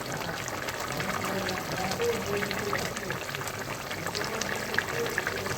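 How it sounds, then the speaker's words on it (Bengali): Doi pabda, a yogurt-based pabda fish curry, simmers and bubbles in a pan with a steady, dense sizzle and faint liquid burble throughout, close by, with no clear talk over it. "এবার একটু ভালো করে ফুটবে, তারপরে আমি নামিয়ে দেব।"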